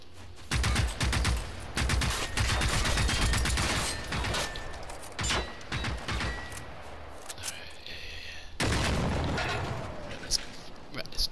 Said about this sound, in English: I'm getting my assault rifle out.